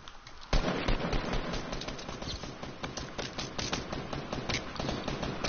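Rapid gunfire in the Fortnite video game, a dense run of close, sharp shots starting abruptly after a brief quiet moment and continuing steadily throughout.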